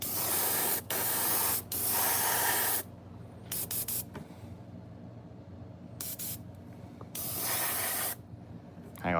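An airbrush sprays paint onto a fishing lure in several loud hissing bursts of a second or two each, separated by brief pauses and quieter clicks and handling noises, close to the microphone.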